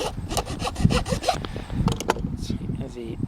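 A compact hand saw blade on a Victorinox multitool rasps back and forth through wood in quick, close strokes, loud and rhythmic, throwing off plenty of sawdust, with a voice briefly audible underneath.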